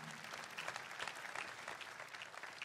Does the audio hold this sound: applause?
yes